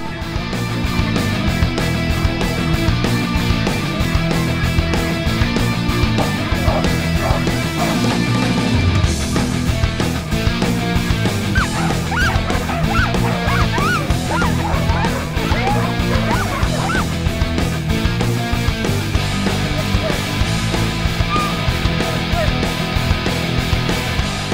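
A large pack of sled dogs barks, yips and howls in a loud, continuous chorus at the start area before a race in Norway, with a dense wash of crowd and loudspeaker noise blending in throughout.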